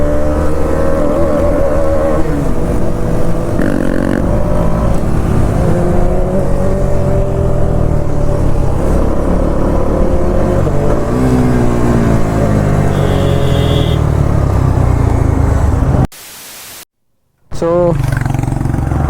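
A loud 390 motorcycle engine revving and roaring on a night ride among superbikes, a close continuous drone with rising and falling revs, a brief dropout near the end, with people talking over it.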